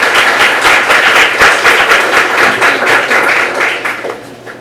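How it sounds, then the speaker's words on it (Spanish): An audience at a lecture on the new civil procedure code greets the speaker with steady, close applause that rolls on for several seconds and then tapers off. "demos un aplauso al magíster Agapito"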